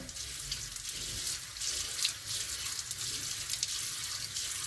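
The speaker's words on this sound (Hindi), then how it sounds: "बंद करके थोड़े से आंखों पे छीटे मारने हैं पानी के" Water splashed by hand onto closed eyes at a sink, a steady close splashing and running-water wash with faint trickles, no talking.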